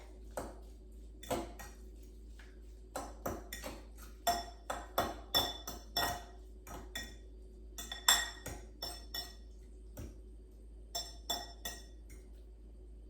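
Seasoned spinach with red pepper flakes is stirred in an Instant Pot's metal inner pot, producing a quiet run of sharp metallic clinks and scrapes from a utensil against the pot, irregular and close.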